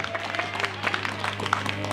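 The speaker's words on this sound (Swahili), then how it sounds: "Piga makofi kwa Yesu Kristo." A church congregation applauding during a Swahili service, steady dense clapping from many hands over a low constant hum, with a voice speaking faintly underneath.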